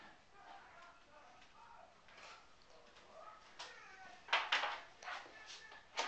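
A spotted cat gives a few short, fairly close meows, loudest near the end, over a soft steady background hiss.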